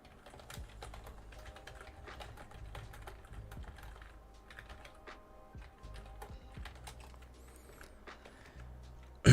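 Computer keyboard typing in quick irregular bursts of soft clicks, close and fairly quiet, ending with a sudden louder knock.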